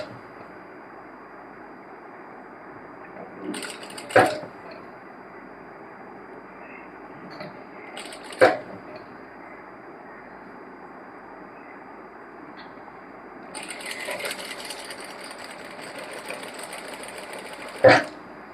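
A sewing machine stitches an Anarkali dress, a steady mechanical whirring hum running throughout, broken by a few sharp clicks and brief louder bursts of stitching.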